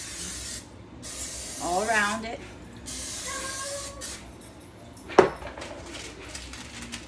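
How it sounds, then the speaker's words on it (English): Non-stick cooking spray hisses into a 9-inch cake pan in several bursts, close and fairly loud, with someone talking between sprays and a metallic clink of the pan near the end. "I'm going to put cooking spray, non-stick."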